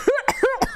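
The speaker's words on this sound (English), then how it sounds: "A smoker cough." Two quick, harsh coughs in close succession, each a short double burst, near and loud, with no talk.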